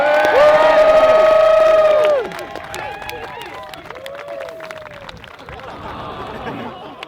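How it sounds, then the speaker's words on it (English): A large crowd at a fundraising ultramarathon event cheers and applauds loudly for a runner, the burst dropping after a couple of seconds into lingering clapping and chatter. "Let's give him a massive round of applause"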